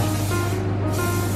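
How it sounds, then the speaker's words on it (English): Close, loud hiss of non-stick cooking spray sprayed around the sides of a cake tin, one steady burst with a slight dip midway over a low hum. "I'm just going to use some non-stick spray just to go around the sides"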